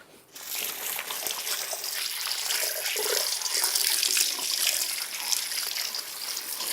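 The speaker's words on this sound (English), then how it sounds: "Again, let me wash my hands." Hands washed under a kitchen tap while cooking BBQ ribs and baked beans: a steady, close rush of running water that pours without a break for several seconds, with no talking.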